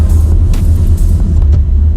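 A Maserati Levante SUV accelerates on a desert road, its engine a loud, steady low rumble heard from inside the cabin, continuous with no talk.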